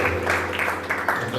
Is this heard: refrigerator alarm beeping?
no